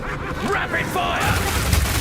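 Rapid bursts of gunfire in Path of Exile 2, a quick volley of booming shots thudding close and loud, layered over game effects for about two seconds.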